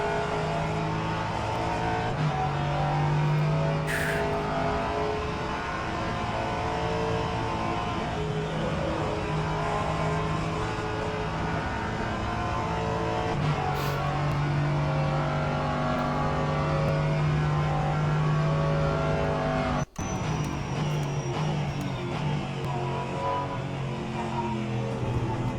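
An LMP3 race car at full throttle in rFactor 2 at Thruxton, a loud, sustained engine drone that holds nearly steady with small pitch shifts and a brief sharp click near the end.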